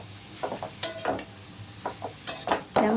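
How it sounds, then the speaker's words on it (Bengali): Grated carrot frying over a medium gas flame as a spatula scrapes and stirs it around a pan, making several uneven clattering strokes over a soft steady sizzle, close with no talk. "সেই গাজরটা দিয়ে ভালো করে কিন্তু আমি ভাজবো।"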